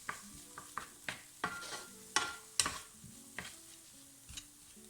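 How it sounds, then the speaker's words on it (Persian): Quiet frying hiss of chopped onion in oil in a pan, with a series of sharp spatula taps and scrapes at an uneven rhythm as it is stirred. "با 1 قاشق روغن اون رو تفت میدیم تا به صورت نیمه طلایی در بیاد"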